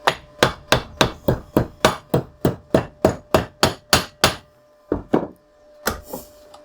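Rapid, evenly spaced hammer blows ring out on a clamped metal washer being knocked flat, over a dozen in a row, followed by a few slower, separate strikes. Close and loud, no talking.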